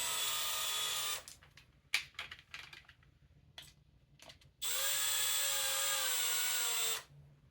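A power drill runs at low speed, driving screws into a headlight adapter bracket for a Hummer H2, with two long steady whirring runs framing a series of short, choppy bursts and clicks. The sound is close, with no talk.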